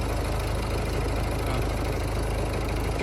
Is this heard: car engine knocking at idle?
yes